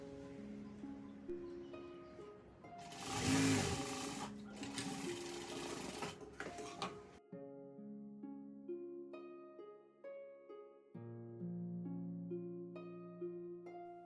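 A sewing machine stitches elastic onto a fabric sleeve, running in a steady, fast mechanical whir for several seconds before it stops. Soft melodic music continues in the background.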